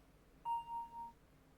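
A doorbell chime in the horror adventure game 5 Nights at Trilby's rings once, a short steady electronic tone lasting about half a second, clear and alone against a quiet background.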